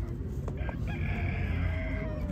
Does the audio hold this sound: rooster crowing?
yes